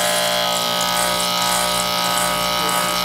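Electric hair clippers with a closed 1/16 guard run steadily while cutting a burst fade on a flat top haircut, a constant close buzz with slight scraping variation and no talk.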